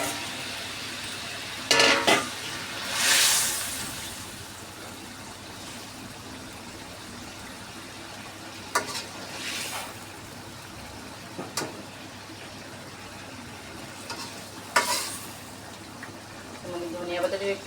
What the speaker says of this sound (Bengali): মাছের ঝোল তো ফুটে উঠেছে